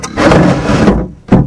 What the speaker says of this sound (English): the microphone's now going in a drawer